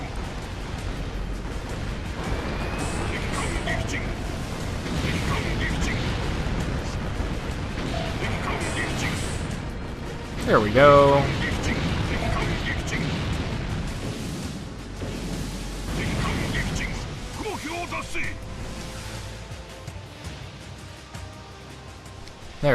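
Naval guns boom repeatedly from warships in the video game Warship Gunner 2, loud explosive bursts and rumbling blasts scattered across the battle, with someone talking over the gunfire.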